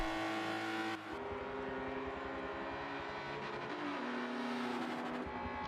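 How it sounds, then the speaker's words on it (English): A race car at Mugello crosses the start-finish line with a loud, steady engine roar that holds from start to end, a brief dip near the beginning, then continues at full volume with no talk. "Car number 8 of Sunshine, about to cross the start-finish line."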